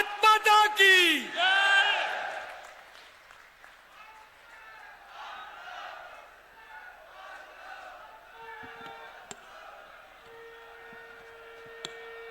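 A political rally crowd at a booth workers' gathering in Khajuraho bursts into loud applause and cheering, then settles into a steady murmur of distant chanting voices.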